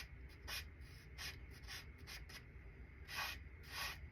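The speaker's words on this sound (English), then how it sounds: "I'm not scrubbing, I'm not blending, I'm just making lines" Pencil strokes drawn to shade an artwork make soft, quiet scratching swishes in an irregular series of short lines, close up and alone.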